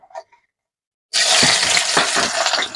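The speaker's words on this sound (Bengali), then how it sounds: "পেঁয়াজগুলো ভালো করে ভাজি নেবো" Onions frying in a pan with a dried chili and cinnamon for a green-chili chicken dish erupt into a loud, steady sizzle that starts suddenly after a short quiet pause, with stirring scrapes under the hiss.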